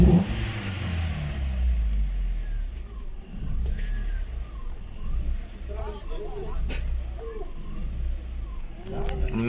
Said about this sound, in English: the revs go to 3000